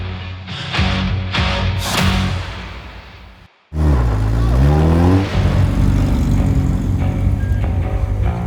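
Baja Challenge class race car driving off-road at the Baja 1000, its engine revving and roaring close by, with a brief pause before a loud surge of acceleration, and voices faintly mixed in.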